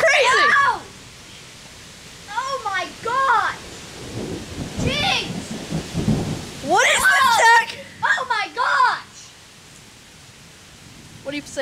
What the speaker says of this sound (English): Oh, we're getting so much rain.